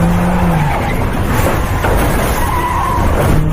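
Tires skid and squeal on the road during a chase scene in an Indonesian action film, loud and continuous against a rumbling engine, with no talking.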